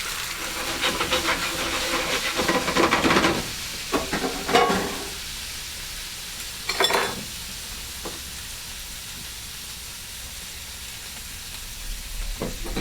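Shrimp dropped into a hot pan in a firehouse kitchen sizzle and hiss in bursts of stirring and crackle, loudest early on, then settle into a quieter, steady fry with occasional sharp pops.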